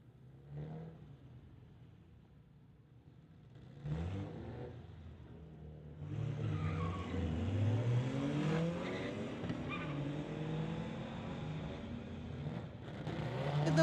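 A 1970 VW buggy races down the Mission Raceway drag strip, its engine revving hard and climbing in pitch through the gears as it pulls away, loud and continuous with a brief tire chirp at the launch.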